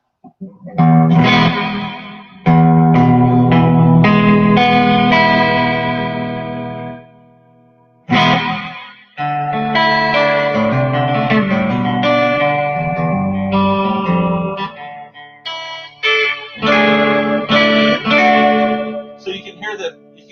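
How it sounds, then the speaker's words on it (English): An electric guitar played through an Abyss reverb pedal with modulation, mix set at 12 o'clock, rings out in chords and single notes with lush, shimmering, wavering reverb tails that swell and fade between phrases. "You can hear the modulation happening within the reverb."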